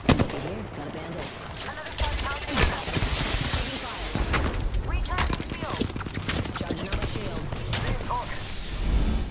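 Gunfire in a ranked Apex Legends match played as Valkyrie: dense, rapid bursts of shots and sharp impacts crowd the mix with hardly a gap, loud and up close.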